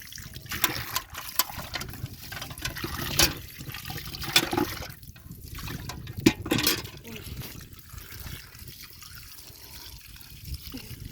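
Water being poured out, a steady splashing and trickling wash of liquid running through the clip, with faint voices in the background.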